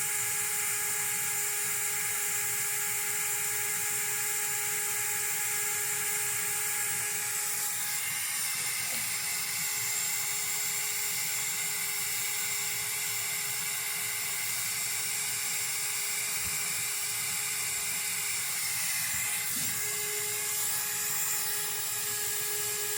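CUKTECH BF01 handheld USB jet fan running on its second speed level, a steady high-pitched turbine whine with airy rush, continuous and close with no talk.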